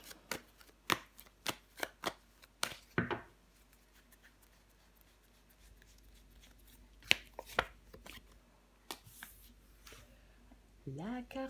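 Tarot cards being handled and laid down on a table, a series of sharp close taps and soft slides in uneven rhythm, with a quieter stretch and a brief shuffle near the end, no talking.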